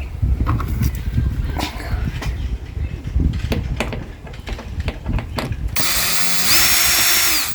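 A metal screw being backed out of the trim around a Subaru backup camera, heard as close, irregular ratcheting clicks and small handling knocks, followed by a brief higher whirring tone.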